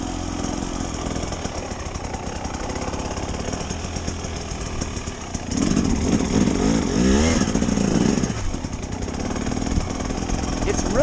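2024 KTM 300 XCW dirt bike running on a trail, a steady buzzing two-stroke engine drone that swells louder about halfway through, close and continuous.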